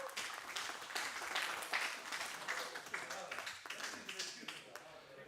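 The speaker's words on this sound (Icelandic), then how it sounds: "gefum honum gott klapp" Audience clapping at a powerlifting competition in Iceland, a loose crowd of individual claps with distinct slaps standing out, fairly steady and gradually thinning toward the end.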